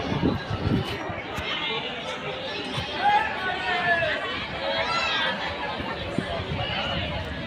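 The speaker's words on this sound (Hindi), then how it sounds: "देखिए कितनी भीड़ है यहाँ पर" A large crowd murmurs and chatters in a packed pandal at a Shiv Mahapuran katha in Dindoli, Surat, a steady babble of many voices with occasional footsteps and movement in the mix.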